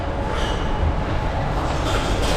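A metro train in Belgrade, Serbia rolls along, giving a loud, steady rumble with faint rattling of the cars throughout and no clear talk.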